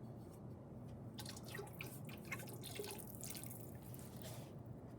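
Glaze is poured around a ceramic mug, giving a faint, steady trickle of liquid with soft drips throughout.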